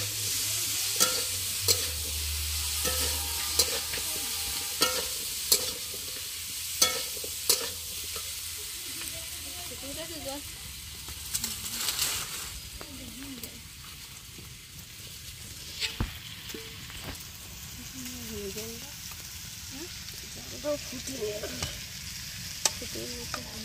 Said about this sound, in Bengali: ধনিয়া গুঁড়ো দিয়ে আবার একটু কষিয়ে নেবো ভালো করে।